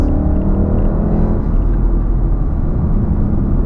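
Volkswagen Golf R accelerating past another vehicle on an open road, a steady loud engine drone and road rumble with a rising tone early on, continuous from inside the car.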